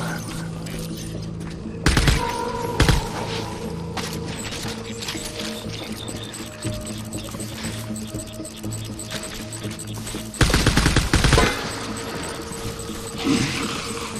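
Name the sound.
gunfire in a video game, Death Stranding-style combat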